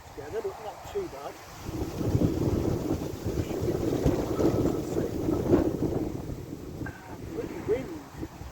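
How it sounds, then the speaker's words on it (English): Strong outdoor wind roars and buffets the microphone in a steady, gusty rush that swells after the first couple of seconds and holds loud throughout. "Bloody wind, really picking up."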